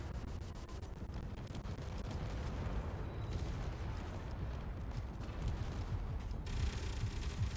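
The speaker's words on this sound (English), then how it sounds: "We're just going to start shooting the red ship to see if we can disable their guns." Gunfire from weapons shooting at an enemy red ship in the space game Space Engineers, a dense continuous rumbling barrage of bursts and impacts, fairly quiet and steady throughout.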